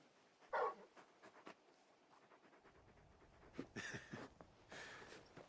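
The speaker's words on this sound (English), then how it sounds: "You're just a big puppy, aren't you? A very big puppy." Large dog companion Torgal in Final Fantasy 16, giving a few soft, quiet panting breaths and light snuffles close by, with short bursts of breathy huffing toward the end.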